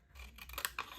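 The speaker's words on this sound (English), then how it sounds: "Cut up to the score line" Scissors snipping paper up to a score line on a papercraft project, a few quick quiet cuts heard close up with no talking.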